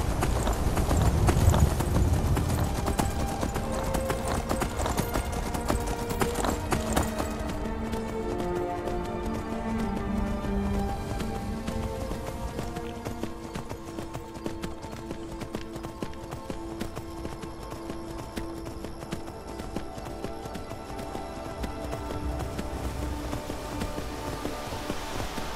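Steady hoofbeats of a horse trotting in the Skyrim video game, close and continuous, backed by full game music and a rain-like wash, the music thinning partway through while the clopping carries on.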